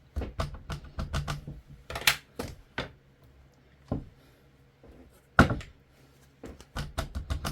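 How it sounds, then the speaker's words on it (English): Sizzix Stamp and Spin crafting tool giving sharp plastic clicks, single and in quick pairs, spread unevenly across a quiet room with no talking. "And that time I did 2 clicks just so I could get it here instead of here."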